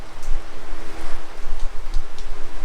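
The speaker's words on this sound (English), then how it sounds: "it started raining" Steady rain hisses down, a dense wash of drops spattering on surfaces with occasional louder taps, with no voices.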